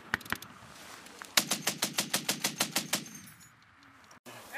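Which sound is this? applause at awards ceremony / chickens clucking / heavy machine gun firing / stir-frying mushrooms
heavy machine gun firing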